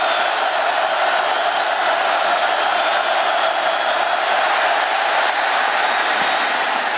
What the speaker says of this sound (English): the crowd making it hard to hear as Wally's trying to change the play